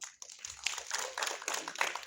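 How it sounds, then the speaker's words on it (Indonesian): A small audience claps for a film director at a press conference and film launch, the scattered clapping soft and fairly distant. "Sutradara kita, tepuk tangan dong"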